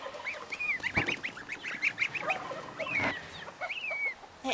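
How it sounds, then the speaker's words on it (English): Geese honk close by in a flurry of repeated nasal calls, several birds overlapping in an uneven chattering rhythm, with a couple of sharp thumps mixed in and no speech. "They are nice, nice geese."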